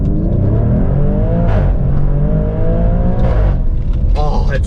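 Maserati Grecale Trofeo SUV engine, rated 523 horsepower, accelerating hard from inside the cabin, loud rising revs broken by quick upshifts with sharp pitch drops, and a voice speaks over it.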